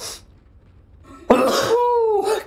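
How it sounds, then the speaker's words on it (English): A sneeze-like burst from a character in the horror game Dead Space, an abrupt loud expulsive sound followed by a sustained voiced trailing tone, heard after a short quiet gap. "And a sneeze."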